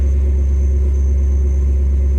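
A Jeep aired down on Patagonia tires at 10 psi climbs a loose gravel and rock trail, its engine a steady, loud low drone throughout with no breaks.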